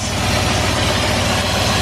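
A 4x4 tow car's engine idles smoothly and steadily, a low even rumble close by with no talking over it.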